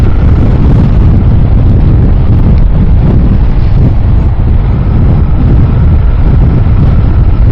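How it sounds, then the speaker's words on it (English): Strong wind buffets an outdoor microphone at a campsite, a loud, continuous low rumble that gusts and roars steadily throughout with no voices. "Alright, slightly windy."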